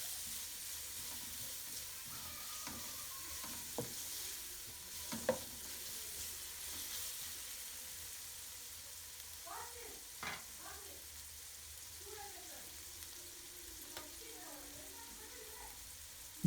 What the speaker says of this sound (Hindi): अभी हम इनको अच्छी तरह से फ्राई करेंगे। 2 से 3 मिनट हम इसे अच्छी तरह से फ्राई करेंगे।